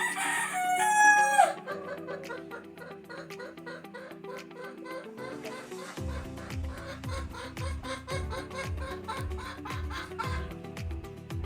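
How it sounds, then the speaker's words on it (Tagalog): Broody hens in a backyard fowl run, loud close clucking and cackling at the start, then a steady run of rhythmic clucks and calls from several birds, with a rooster-like crow among them. "pagkatapos sumilip sa pugad, putak na ng putak ang iingay nila"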